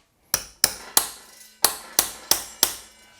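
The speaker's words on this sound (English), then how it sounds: "we're going to carefully tap the BB out of the frame" Hammer striking a punch to tap a pressfit bottom bracket out of a bike frame: seven sharp metallic knocks at a steady, slightly uneven rhythm, close and loud with ringing decay, no talk.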